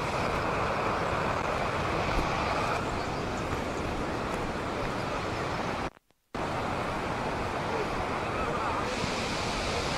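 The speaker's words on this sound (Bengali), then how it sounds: "মানে যেটা ঝর্ণা জলটা নিচে নামছে" Athirappilly waterfall in Kerala pours down in a loud, constant broadband roar heard up close, broken only by a brief dropout near the end.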